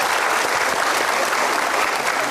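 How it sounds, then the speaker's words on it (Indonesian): Audience applause at a motivational seminar, a dense, steady clapping that fills the room at even loudness throughout, with no voices standing out. "Oke, kasih tepuk tangan dulu."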